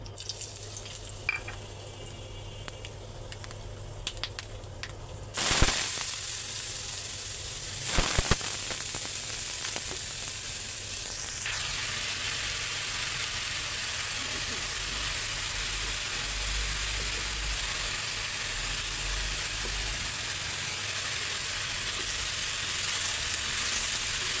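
Dried red chilies for potato fry hitting hot oil, a sudden loud burst of sizzling that then settles into a continuous bright crackling hiss, close and unbroken.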